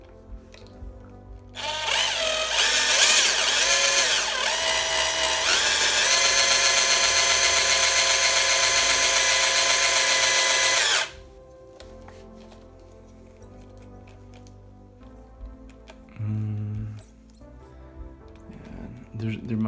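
A power drill whirs steadily for about nine seconds, spinning a pivot ball on a Pro-Line PRO-MT 1/10 4x4 monster truck to loosen it, then cuts off, leaving quiet room sounds and light clatter.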